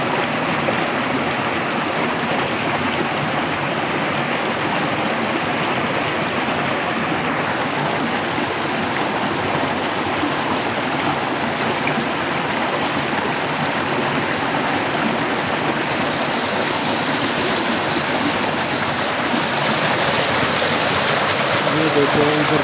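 A mountain stream in Kashmir flows steadily, a loud, continuous broadband rush of water that stays even from start to finish with no pauses.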